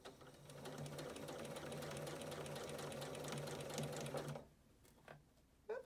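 A sewing machine stitches the lining of a surgical cap in a fast, steady whir of needle strokes for several seconds, then stops, followed by faint handling clicks.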